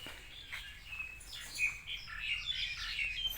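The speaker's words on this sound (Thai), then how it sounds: "เสียงนกร้องคิบคิบคิบคิบ" Small birds chirp and tweet repeatedly in high, quick calls, a lively chorus at moderate distance over faint background hum.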